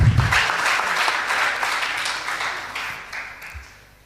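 Audience applause for a school debate team, a dense burst of clapping that starts strong and gradually thins out and fades toward the end.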